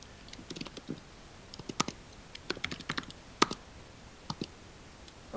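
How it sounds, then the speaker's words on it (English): Typing on a computer keyboard during a web sign-up: irregular bursts of crisp key clicks, close and clear, with short pauses between runs and no talking. "You can keep typing"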